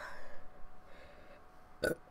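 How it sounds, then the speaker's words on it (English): A single short burp at the very end comes right after a quiet stretch of breathy, low-level room sound. "Can I burp again?"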